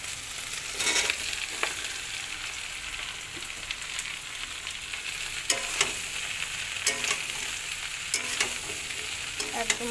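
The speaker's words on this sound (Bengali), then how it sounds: "এখন আমি শাপলাটা দিয়ে দেবো।" Water lily stems drop into garlic frying until reddish-brown and get stirred, a steady close sizzle broken by repeated scraping strokes of a utensil against the pan, with no voices.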